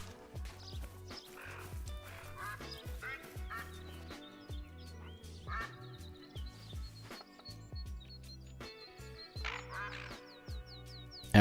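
Repeated duck quacks in a duck hunting video game, a series of short calls spread through the stretch alongside bird chirps, with a talking voice and game sounds underneath.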